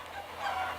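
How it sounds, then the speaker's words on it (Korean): Free-range hens on an animal welfare farm, a short burst of honking, clucking calls heard close and clear over a low ambient hum. "자유방목 동물복지 농장의 닭입니다."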